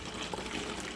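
Water pours steadily into a cup for a homemade tea-bag fertilizer, a brief continuous splashing fill with no pause.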